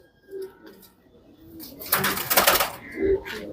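Old pet pigeons kept by a long-time hobbyist give soft, low coos close by, with a short burst of flapping wings in the middle, against a quiet background.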